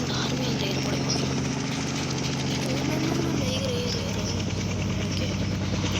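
A video-game helicopter gives off a steady, droning rotor hum with a rapid rhythmic flutter. It stays loud and continuous, and its pitch drops slightly partway through, with a voice talking over it.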